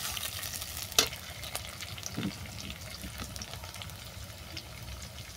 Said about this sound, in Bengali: দিয়ে দিচ্ছি কাজু বাদাম, আর দিলাম কিশমিশ। এটাকেও হালকা করে ভেজে নেব।